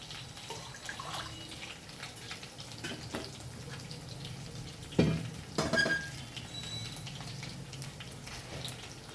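Two glasses of water are poured into a pot for tomato rice in a home kitchen, giving soft, faint splashing and dripping with one louder splash midway and no talking.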